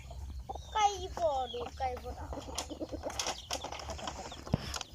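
Chickens cluck and a rooster crows close by in a morning yard, with quick wing flapping, while a person talks over the birds.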